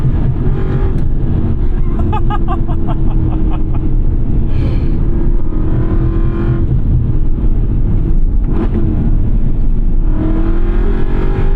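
A 2011 BMW M3 E90 with its naturally aspirated V8 revs hard toward the red line, a loud, sustained engine roar with rising pitch sweeps from inside the car.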